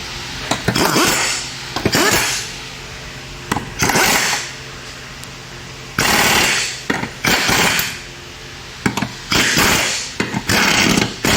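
Bolts being tightened on a Cadillac's gearbox mounts with a power tool, loud rattling bursts of a few seconds each separated by short pauses, close by and with no talk.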